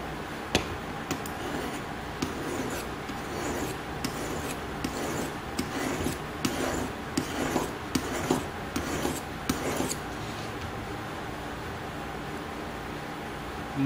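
A leather knife blade is sharpened with a steady rasping, rubbing sound and rhythmic strokes against an abrasive. The strokes are close and fairly even in level, with no talk.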